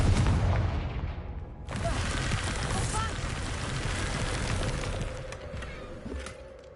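A Confringo blasting spell in a Harry Potter video game bursts with a sudden broad boom, then rolls on as a sustained rumbling roar with scattered crackles that slowly fade.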